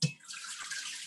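Water splashes into a cooking pot that already holds chicken for a green chicken posole, a steady splashing pour lasting about a second that starts with a brief knock.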